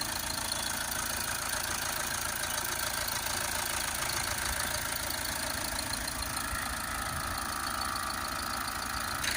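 Audi TT 2.0 TDI diesel engine idling steadily during a DPF cleaning job, giving a continuous close, even hum with a broad hiss on top and no noticeable changes in pace throughout.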